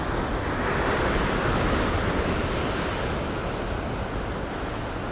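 Ocean waves surge and wash against the rocks of a Sydney rock-fishing ledge, a steady, loud, broadband roar with gusty wind noise on the microphone and no speech.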